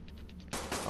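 A gunshot in the survival video game ARK Survival Evolved: one sudden loud broadband blast that cuts in halfway through and rings on to the end, after a quieter stretch of soft pulsing game ambience.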